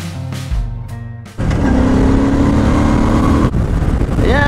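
A Suzuki Boulevard C50T cruiser motorcycle accelerating up through the gears, the engine note rising loud and close, with a brief dip at a shift before it pulls hard again.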